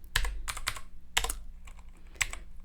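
Bursts of typing on a computer keyboard while writing R code, with quick clusters of key clacks separated by short pauses, close and fairly crisp in a quiet room.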